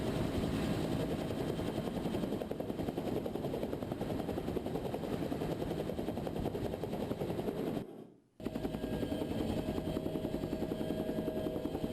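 Fire department rescue helicopter heard up close, its rotor beating in a steady loud rhythm throughout, with a brief near-silent gap partway through before the chopping returns.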